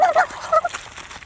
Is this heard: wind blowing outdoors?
no